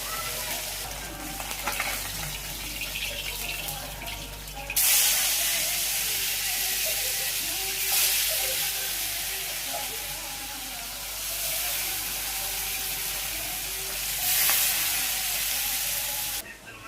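Fish fry in a pan with a steady, dense hiss that swells louder after a few seconds and holds for the rest of the stretch. The sound is close and continuous, with no clear speech over it.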